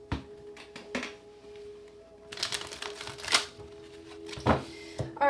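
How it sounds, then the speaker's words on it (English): A deck of tarot-style cards riffled and shuffled in several quick bursts of papery crackle and flutter, close by, separated by brief pauses with no one talking. "One more shuffle."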